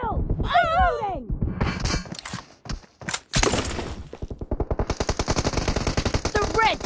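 Rapid bursts of automatic gunfire from a PUBG team deathmatch in a 4 versus 4 match, sharp repeated shots fired at close range in quick succession, mixed with in-game voice callouts and other game effects.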